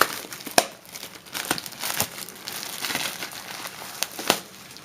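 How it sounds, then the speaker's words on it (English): Plastic shrink wrap being ripped off a cardstock DM screen, close crinkling and tearing in irregular sharp bursts, several louder snaps among softer rustling, no talking. "we'll just rip this open and have a look. If I get the plastic to cooperate here."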